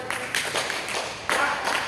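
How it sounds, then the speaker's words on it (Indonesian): A class of students in a floor gymnastics lesson claps together in applause, a dense burst of hand claps that swells, dips and rises again in a second wave across the short moment, close and fairly loud in the room. "Tepuk tangan buat semuanya."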